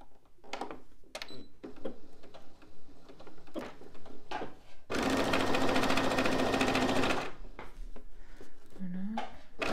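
A sewing machine stitches a fabric bucket hat 1 cm from the edges, running loud and steady for a couple of seconds after scattered clicks and handling noises; a voice speaks around it.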